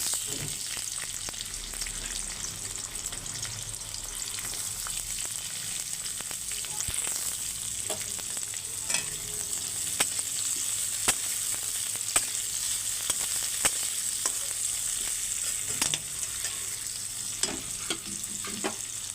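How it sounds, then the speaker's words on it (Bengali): Chopped onions fry in a wok with a loud, constant sizzling hiss, broken by frequent sharp crackles and pops from the hot oil, heard up close and alone. "দেখুন পেঁয়াজগুলো ভাজা হয়ে গেছে"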